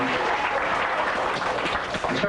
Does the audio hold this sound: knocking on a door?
no